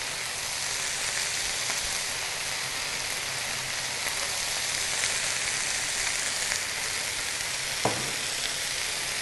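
Potato and cabbage curry sizzles steadily in hot oil while being stirred, a constant close, loud crackling hiss with an occasional scrape of the spoon against the pan.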